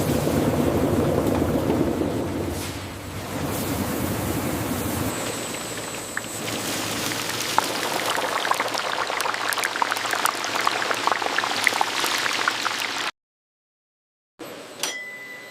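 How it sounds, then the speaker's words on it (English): Water spraying continuously over potatoes on a factory line, a steady hissing, splashing rush with clinking machinery, that cuts out abruptly near the end before briefly resuming. "the potatoes are continuously sprayed with fresh water."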